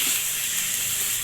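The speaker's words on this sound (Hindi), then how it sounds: "चिकन भुन रही है" Chicken frying in a pan for Peshawari karahi, a short burst of loud, steady hissing sizzle.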